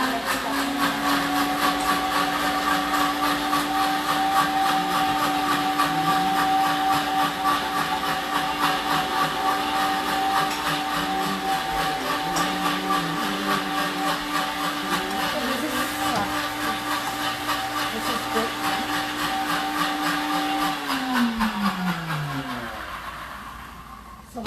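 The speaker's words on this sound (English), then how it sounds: "then I will blend this Divine Tambuli real quick." A kitchen blender whirs steadily and loudly for over twenty seconds while blending ajwain tambuli, a yogurt-based dish, its motor pitch holding constant before spinning down at the end.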